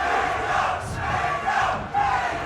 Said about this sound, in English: Mang0 chants coming out